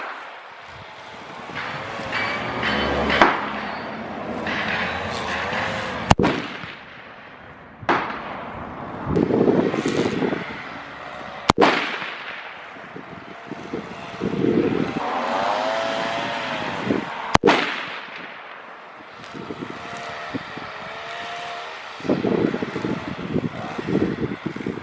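M&P 10 rifle fired during outdoor target practice, with a few sharp, loud shots spaced several seconds apart, each followed by a decaying echo and background noise.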